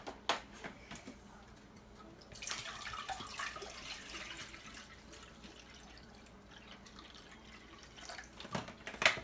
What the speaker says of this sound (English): Now, put your water in the pot.